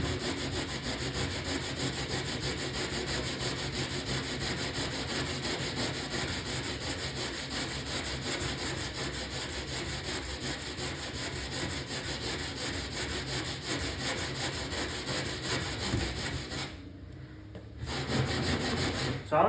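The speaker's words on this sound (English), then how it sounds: "especially with this fiberglass filler, because this stuff is definitely harder to sand than Bondo" Hand block-sanding of hard fiberglass filler on arcade cabinet bodywork, a steady, close abrasive rasping of repeated strokes that runs almost continuously, with a brief pause near the end before resuming.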